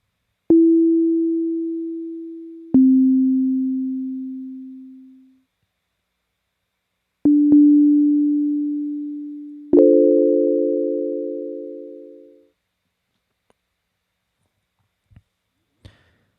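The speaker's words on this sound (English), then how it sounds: "So right now, we see this sine wave. I'm going to play some notes." Synthesizer sine wave notes, pure and clean, struck one at a time: three single notes and one chord, each starting sharply and fading slowly, with silent gaps and two faint clicks at the end.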